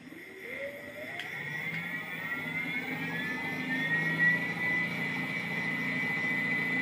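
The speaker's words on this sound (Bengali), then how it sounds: "এই মোটরটা ঘুরেই দেখান তো" An electric motor on a battery-powered vehicle spins up, its whine climbing steadily in pitch over a few seconds and then holding at a high, even tone, with no one speaking.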